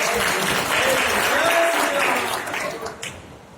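Audience applause at a Ramlila federation gathering, a dense burst of clapping that holds steady and then thins out and fades toward the end.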